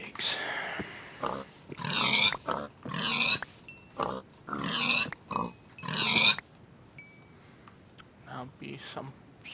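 Pigs grunting in a Minecraft-style survival game, several short bursts of grunts in quick succession at moderate loudness, then quieter game noise with faint speech underneath.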